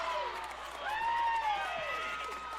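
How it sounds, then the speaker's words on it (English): Crowd cheering and shouting at a Noblesville high school softball sectional championship game against Carmel, a steady, excited roar of many voices filling the whole stretch. "Just listen to this Noblesville crowd"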